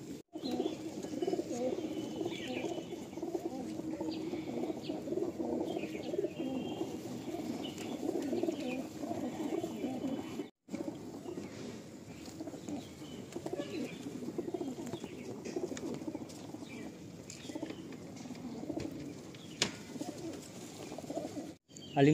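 Madrasi pigeons, a high-flying breed kept in a home loft, coo softly and continuously at close range with scattered chirps. A brief gap breaks the murmur midway, and no one speaks.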